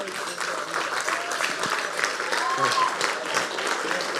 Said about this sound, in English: Round of applause for Tom Joyce.